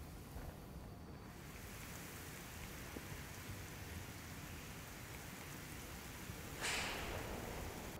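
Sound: heavy rain with strong wind during cyclone Biparjoy

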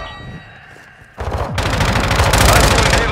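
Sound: gunfire in a Call of Duty video game

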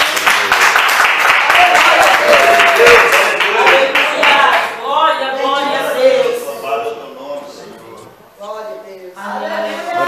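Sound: church congregation clapping

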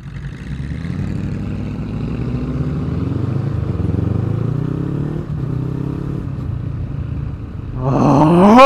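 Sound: Ford Mustang engine burble

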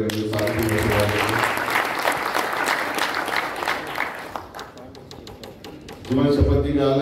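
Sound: audience applause at an event

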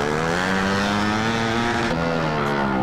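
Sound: Start 160 motorcycle revving with straight exhaust pipe

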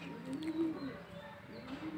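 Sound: pigeons cooing

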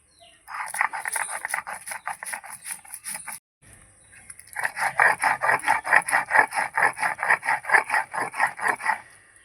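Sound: grinding mustard and poppy seed paste

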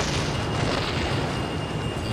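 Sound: bomb explosion in the video game Kerbal Space Program

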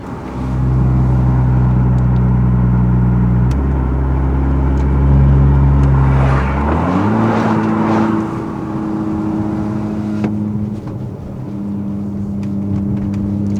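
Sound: BMW X5 F15 engine revving with exhaust valve open

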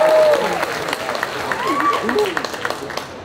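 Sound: applause

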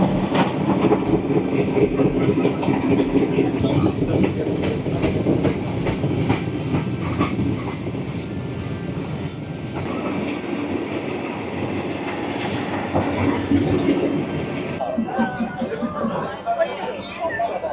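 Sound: train passing through market

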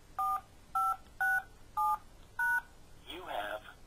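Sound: telephone keypad tones entering a PIN for magicJack voicemail

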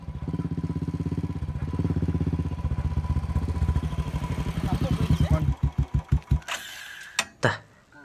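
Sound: motorcycle engine running and acting up

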